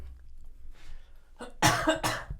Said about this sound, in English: a genuine average cough of a regular human being